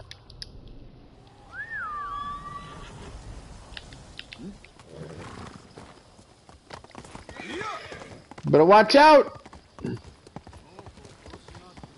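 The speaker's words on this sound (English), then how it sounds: "I'm riding my horse full speed through." Hooves clip-clop at speed amid game sounds, with a horse whinny and a roar, while someone shouts briefly.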